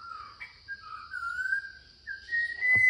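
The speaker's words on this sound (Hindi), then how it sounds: "एक चिड़िया है जो बोल रही है।" A bird whistles a series of clear, drawn-out calls in deep forest on the Valparai to Athirapally route, against a quiet background with a faint high insect-like hum throughout.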